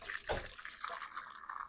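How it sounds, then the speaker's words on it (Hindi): Chicken stock being strained through a sieve in a home kitchen, liquid splashing and trickling close by for under two seconds, with a brief heavier pour near the start followed by a steady light flow. "अब इस पानी को हम छान लेंगे।"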